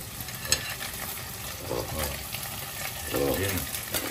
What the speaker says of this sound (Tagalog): Lalagyan na natin yung alimangong mataba.